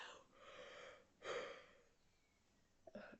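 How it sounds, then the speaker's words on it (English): A person yawns with long, breathy exhales, one stretched yawn followed by a stronger gasping one and a short breath near the end, close and quiet with no talking. "every time I do a video, I yawn so much"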